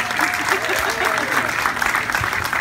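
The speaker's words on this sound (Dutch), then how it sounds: "Applaus voor Guus, een prachtige Ridderkerklied." An audience claps after a song about Ridderkerk, a continuous wash of applause heard close and loud for the whole stretch.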